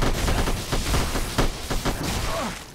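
Gunfire in a Dark Souls mod video game, a quick series of sharp, punchy shots that pop at irregular intervals over a busy, noisy game background.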